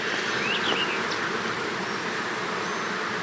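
Honeybees hum in a continuous, even drone while a nucleus colony is installed outdoors, close and steady with a few brighter individual buzzes passing near early on.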